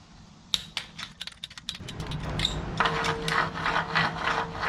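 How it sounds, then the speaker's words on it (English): Ratchet clicks while torquing down head bolts on a 1968cc VW stroker engine with a 74mm crank, a quick run of sharp close clicks followed by a denser, steadier mechanical rattle. "I'm gonna go ahead and start torquing her down."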